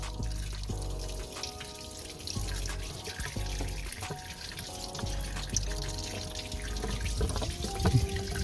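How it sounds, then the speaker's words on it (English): Water trickles and dribbles as it is emptied out during a garage build on a '93 Ford EB Falcon, a steady close splash with small drips, and no one speaks. "that can just be emptied out because it's just, yeah, it's just all water"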